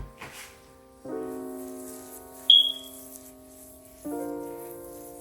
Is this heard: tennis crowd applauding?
no